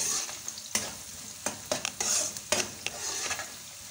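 Cumin seeds crackle and sizzle in hot oil for a potato cutlet recipe, a steady frying hiss broken by sharp stirring scrapes and pops, close and fairly quiet with no talking.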